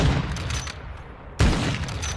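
Barrett MRAD sniper rifle fires in Modern Warfare 2, one loud sharp booming shot that rings off, over a backdrop of steady game ambience and noise.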